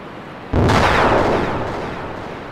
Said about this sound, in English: The explosion of you crash landing